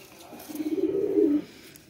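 A pigeon gives one low, throaty coo lasting about a second, close and moderately loud, with quiet background murmur around it.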